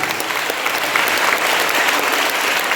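A school crowd claps rapidly in unison to imitate a heavy downpour, producing a dense, continuous pattering roar that stays loud and even throughout.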